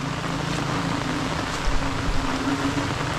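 Steady rain falling on a garden during the rainy season, a continuous even hiss with a few soft thumps of heavier drops and no voices.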